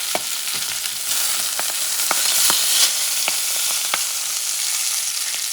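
A bison ribeye steak sears in a hot pan, its fat edge cooking: a bright, steady sizzle with sharp crackling pops at irregular intervals, close and loud.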